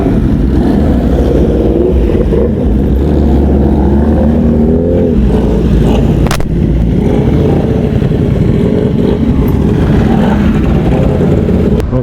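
Several motorcycle engines rumble and rev loudly at close range at a Modenas Hari Raya gathering in Gurun, a continuous low throbbing drone with rising throttle blips and a sharp crack partway through.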